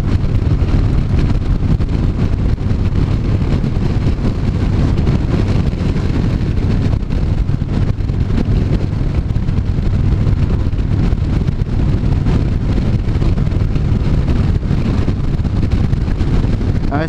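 Steady roaring wind buffeting the microphone while riding a Honda CTX1300 motorcycle on a windy day, continuous loud rushing noise with the low engine drone beneath, no talk.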